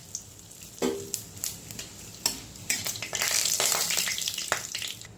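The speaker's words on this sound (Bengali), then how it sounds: "দিয়ে দিব তেজপাতা, আর থেতো করে রেখেছি দুটো এলাচ।" Bay leaf and crushed cardamom hitting hot oil for a pineapple chutney tempering, giving a bright sizzle that swells and stays steady, punctuated by several sharp clinks of a spoon against the pan, close and without talk.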